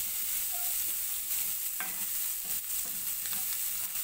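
Vegetables sizzle in a pan while a utensil stirs them, giving a steady hiss of frying with occasional scrapes and clinks, close up and without any talking.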